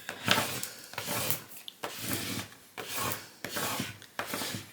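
Vinyl transfer tape being burnished onto a wooden round, heard as repeated firm rubbing strokes in about five close, rhythmic passes with brief pauses between them.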